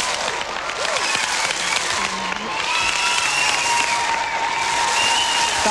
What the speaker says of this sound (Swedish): Publikens jubel.